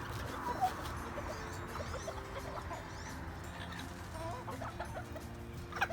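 Silkie and other chickens cluck and chirp in a farm coop, a busy mix of soft clucks and peeps from several birds at close and middle distance, with a couple of louder calls near the start and end.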